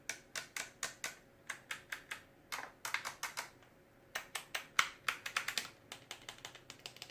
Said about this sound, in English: The switches do not feel cheap. They all feel very clicky.